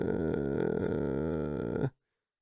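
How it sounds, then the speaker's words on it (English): A low, creaky vocal fry rattles in the throat in a rock singing lesson, one continuous gravelly tone of about two seconds that stops abruptly into silence. "he does a lot of fry, so it's a lot of this sound"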